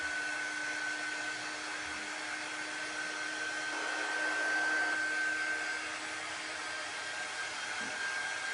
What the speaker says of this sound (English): I probably ought to get my new little handy dandy dryer.